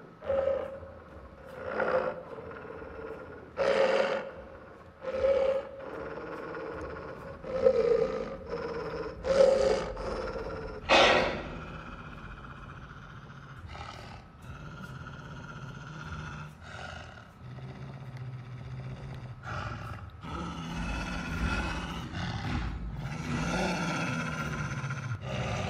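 A beastly wolf in the VR horror game The Inpatient, set in a sanatorium, gives a series of loud roaring growls, spaced a couple of seconds apart. A continuous rasping, guttural snarl follows.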